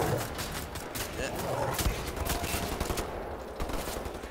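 Gunfire in the shooter game Wolfenstein: The New Order, rapid bursts of weapon shots cracking repeatedly over a busy, noisy game mix, with a voice talking over parts of the action.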